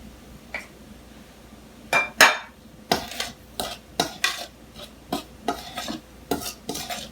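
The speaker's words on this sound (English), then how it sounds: "I'm going to go straight with my hands. So that's the salt and the flour mixed together." Flour and salt being mixed by hand in a bowl for Jamaican dumplings, heard as a run of soft, close scraping and rustling strokes, after a louder clatter near the two-second mark, with no talking.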